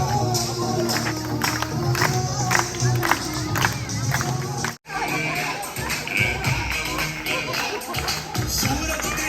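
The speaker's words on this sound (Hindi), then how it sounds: "तालियां एक बार।" At a Hindi-language public event marking the 75th anniversary of independence, a crowd claps and cheers loudly under amplified sound and background voices, with a brief drop partway through.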